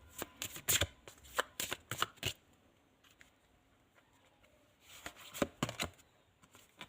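Tarot cards being shuffled, quick close riffling bursts of papery slaps, then a quiet pause before another short flurry of shuffling, with no talk.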